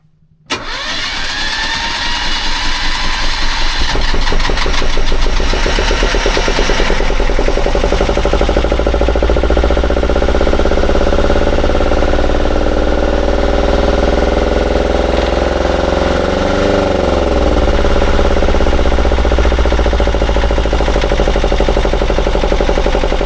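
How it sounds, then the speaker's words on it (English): Small sailboat diesel engine on a river in Borneo starts with a quick crank and settles into a loud, rapid, steady chugging rhythm, close by and unbroken to the end. "Engine started perfect"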